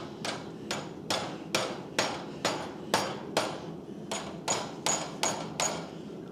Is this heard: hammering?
yes